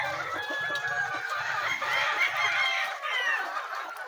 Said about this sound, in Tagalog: May ibang manok ka dito?